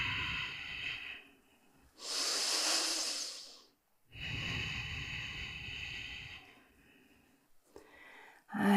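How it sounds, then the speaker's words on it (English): Slow, deep breathing during a guided yoga balance exercise: long, loud, airy inhales and exhales close to the microphone, alternating with short pauses and a final sharp breath. "Keep breathing."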